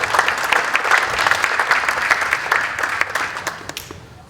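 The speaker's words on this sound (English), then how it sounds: "I think that they deserve a round of applause." Crowd in a hall applauds at a high school athletic hall of fame dedication, a burst of brisk clapping that gradually thins and dies away.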